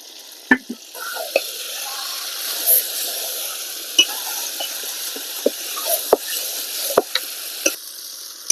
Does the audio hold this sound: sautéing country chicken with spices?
yes